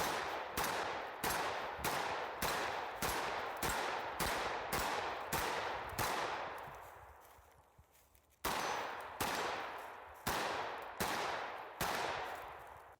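Rapid single gunshots from a firearm fired while running toward steel targets at close range, about twenty sharp reports in two bursts separated by a brief pause, each with a ringing tail, loud and close.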